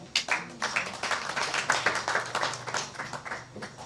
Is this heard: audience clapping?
yes